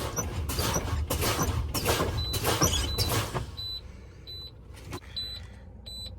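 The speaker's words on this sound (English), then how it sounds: "the low air warning light and the audible buzzer came on before 55 PSI" A truck's low air pressure warning buzzer sounds as the air brakes are pumped down, giving short repeated high beeps after a stretch of rumbling engine and clattering noise.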